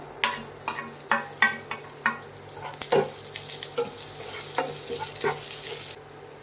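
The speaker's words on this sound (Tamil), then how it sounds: "கொஞ்சம் எண்ணெய் ஊற்றிக்கலாம். நம்ம இதில் இந்த வெங்காயத்தை போட்டுடலாம்." Onions fry in hot oil for chicken fried rice. A bright crackling sizzle runs throughout, punctuated by several sharp clinks and scrapes of a utensil stirring the pan, and cuts off abruptly near the end.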